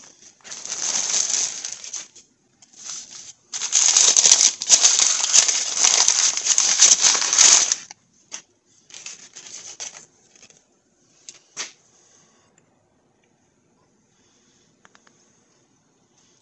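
Packaging for a 2011 Ford Fusion wheel bearing is cut open in a home garage, with bursts of close, crisp crinkling and scraping for several seconds, then scattered faint rustles and taps before quiet.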